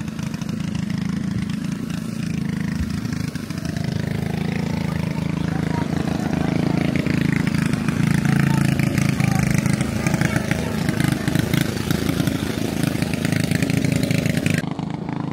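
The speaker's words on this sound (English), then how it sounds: "we had a friend in a long tail with no muffler going by" A longtail boat engine with no muffler roars steadily nearby as it passes on the water in Thailand, loud and continuous throughout, with voices faintly underneath.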